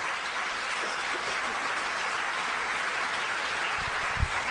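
Congregation applauding during a church sermon, a broad steady wash of clapping at moderate level, with a couple of low thumps near the end and no speech over it.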